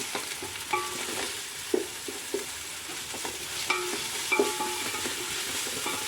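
Ginger-garlic paste fries in a pan for ghee rice, a steady sizzle broken by repeated spoon scrapes and clinks as it is stirred.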